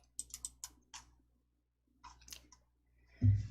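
A computer mouse gives crisp, quiet double-clicks in a few short bursts, with pauses of silence between them and a dull knock at the end.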